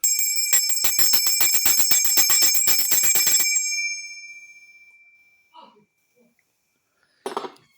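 A brass hand bell rung with rapid repeated strokes, bright sustained ringing for a few seconds that then decays to silence, followed by a couple of faint knocks and a short clatter.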